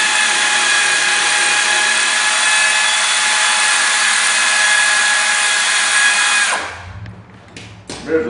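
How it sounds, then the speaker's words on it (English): A power tool driving a 9/16 socket spins the rear leaf-spring shackle nut off an EZGO TXT golf cart with a loud, close, steady whine for about six seconds, then stops, followed by a few light metallic clinks. "Remove the nut from there like so"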